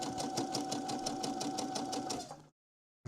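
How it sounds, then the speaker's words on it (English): A sewing machine stitching a rope bowl runs in a steady, close, rapid mechanical whir with a fast stitching rhythm, then stops abruptly, leaving silence. "just sewed the start thread into the thing"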